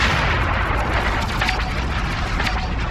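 Gunfire from the Warhammer 40K Eternal Crusade battle, with sniper fire, booms as a continuous loud roar of shots and blasts, dense and steady with no pauses.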